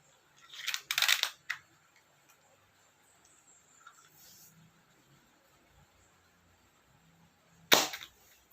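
A few sharp shots fired at a target, a quick cluster of cracks near the start, then a quiet stretch and one more snap near the end, close but modest in loudness.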